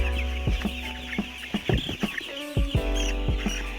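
Eight-day-old chicks clucking in short, irregular bursts close by, with several birds overlapping against a steady low background hum.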